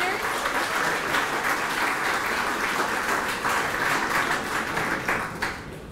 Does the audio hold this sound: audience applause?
yes